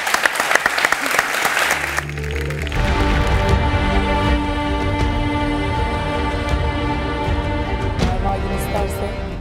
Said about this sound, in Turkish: Bir alkışla uğurluyoruz.